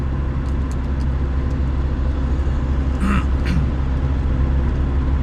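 A car drives along a road with a steady low engine and tire rumble heard from inside, continuous and fairly loud throughout, with a couple of faint chirps over it.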